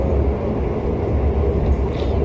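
The Argo Bromo Anggrek passenger train running on the rails along the northern coast, heard from inside as a loud, continuous low rumble and roar with no distinct beats and no voices.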